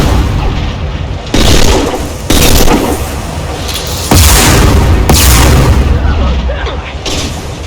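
Heavy weapons fire and booming explosions in the sci-fi shooter Mass Effect 2, loud repeated blasts arriving in several waves, with voices calling out between them.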